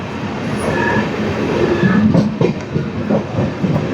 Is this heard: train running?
yes